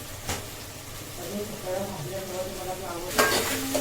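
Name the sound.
stirring food in a cooking pan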